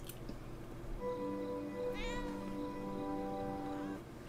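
A cat meows in a long, drawn-out wail, close and steady over faint background hum, from the film Hush (2016).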